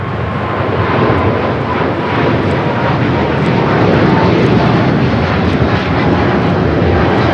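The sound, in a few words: Cathay Pacific 885 jet taking off to Hong Kong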